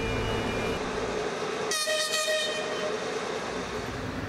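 A special-priority freight train carrying spent nuclear fuel rumbles past close by, its loud horn sounding in one long blast midway through over the steady clatter of the wagons.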